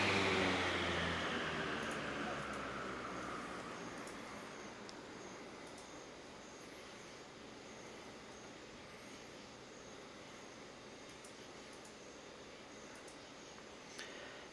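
A 1950s Shovelaire Model 515ASK 15-inch four-blade electric fan spinning down, a soft whirring hum that fades over the first seconds into a steady, faint low rumble, quiet and alone.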